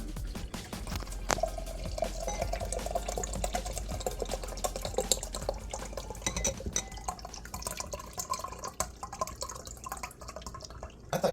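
Boba milk tea from a microwave kit, with tapioca pearls at the bottom, being poured out, giving a steady wet trickle and dripping that fills the whole stretch with no talk.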